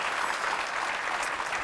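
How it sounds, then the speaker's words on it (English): A live audience at a tech talk show claps in a brief, steady burst of even applause, moderately loud and without any talk. "Give her a round of applause"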